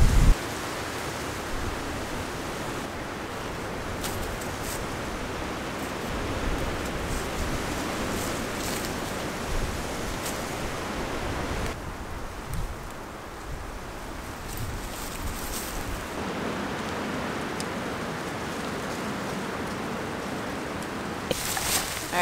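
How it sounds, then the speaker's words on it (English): High wind sweeping over a mountain campsite, a continuous rushing roar buffeting close to the microphone, rising and easing in gusts with brief sharper flaps, no voices. "I hope this wind chills out in a bit."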